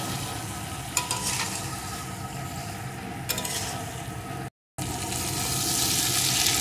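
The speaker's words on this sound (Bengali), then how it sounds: "এখন বেগুনটাও সব কিছুর সাথে একটু কষিয়ে নেব" Eggplant pieces are stir-fried with fried potatoes, salt and spices in a pan, a close, steady sizzle broken by occasional spoon scrapes and one short silent gap before the frying resumes, with no one speaking.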